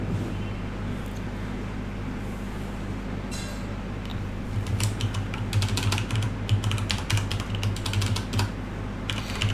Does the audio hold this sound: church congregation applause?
no